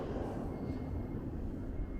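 A New York City subway train leaves the station directly beneath an 8th Avenue sidewalk, producing a steady, dense low rumble with a faint high whine over it and no speech.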